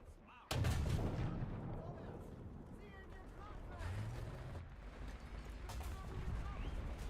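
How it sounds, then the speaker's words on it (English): A tank cannon fires in War Thunder, one sudden heavy blast followed by a long rumbling echo, with engine drone and a voice talking underneath. "there's some shots going in from the left"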